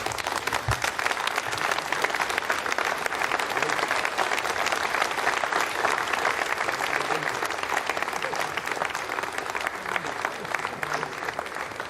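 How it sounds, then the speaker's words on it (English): Applause breaks out in the Jupiter control room after satellite separation of GEO-KOMPSAT-2B on the Ariane 5 flight VA252 launch: a sustained, even wash of many hands clapping, moderately loud throughout, with faint voices underneath. "You can hear the applause now from the people in Jupiter."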